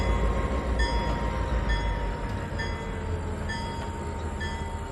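Model train cars roll by with a steady low rumble, with faint high-pitched wheel squeals appearing now and then over the continuous noise.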